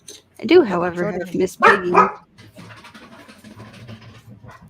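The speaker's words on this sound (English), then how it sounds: "That was my dog." A dog barks a few times close by in the middle of the clip, loud against people chatting before and after.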